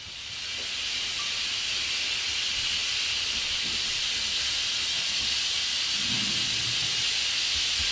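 A La Pavoni Europiccola espresso machine hisses steam steadily, rising in the first second and then holding a loud, continuous, close hiss for several seconds with no talking.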